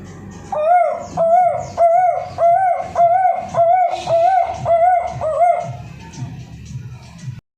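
At a village government primary school, a student's voice imitates a cuckoo, repeating a rising two-note call about nine times in a steady rhythm, loud and close.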